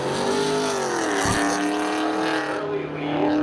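A 2002 Camaro and a 1999 Camaro drag racing at Seekonk Speedway, loud engines roaring and revving with rising and falling pitch as they launch and pull away. A track announcer talks over the steady engine noise.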